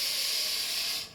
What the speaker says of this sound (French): J'ajoute l'eau et le bouillon.